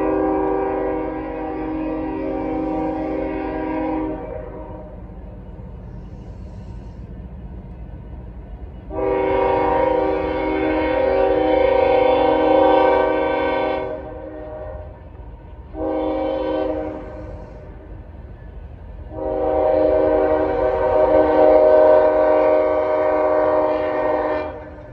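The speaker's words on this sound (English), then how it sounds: "Got a train headed towards Cincinnati." A CSX mixed freight train with two locomotives, rerouted over Norfolk Southern track toward Cincinnati, rumbles past while its horn sounds in long, loud blasts, a short toot between them, over a low steady rail drone.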